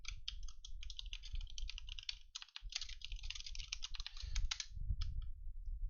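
Steady typing on a computer keyboard, a quick irregular patter of close key clicks with a brief pause partway through, continuing alone without talk.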